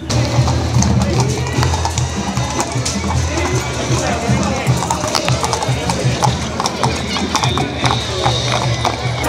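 Horses' hooves clip-clop in a busy stream during a big horseback parade at a town fiesta in Arandas, with over 5000 riders registered. The dense, loud clatter continues beneath crowd noise and nearby talking.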